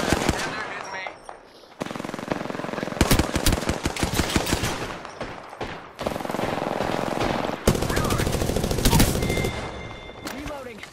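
Hemlock burst rifle firing in Apex Legends, sharp gunshots cracking in quick bursts and single shots with reload clatter between them, loud and close, over busy in-game battle noise with a voice talking.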